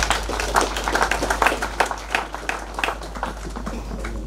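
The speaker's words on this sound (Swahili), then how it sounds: "hebu mwapigie makofi wa waimbaji" A crowd claps for the singers at a funeral service, with scattered, uneven hand claps at moderate distance.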